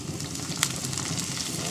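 River clams hit a hot pan, giving a steady, loud, close sizzle with a small clink near the start.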